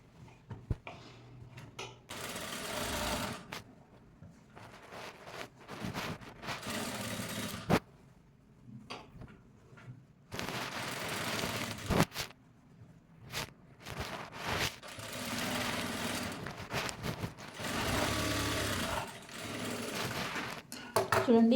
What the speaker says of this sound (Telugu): ఫ్యాబ్రిక్ని రివర్స్ తీసేసుకొని మళ్ళీ ఒకటి పైపింగ్ పక్కకి టాప్ స్టిచ్ అనేది వేసుకోవాలి